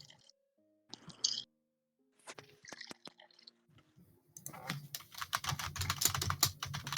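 Computer keyboard typed on rapidly in short bursts, close and crisp, with pauses between flurries and a denser, louder stretch of clicking toward the end.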